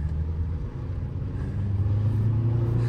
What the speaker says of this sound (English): let's whip some donuts